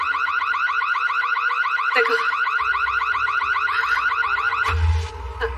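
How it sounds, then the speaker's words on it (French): A home burglar alarm sounds continuously and loudly, its rapid repeating warble holding steady throughout, with a brief spoken word and faint low rumbling underneath. "Votre alarme s'est déclenchée"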